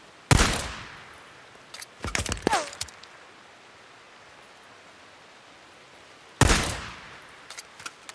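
Gunfire in the game Days Gone comes as a few sharp, loud bursts separated by quiet gaps, each crack trailing off quickly, close by.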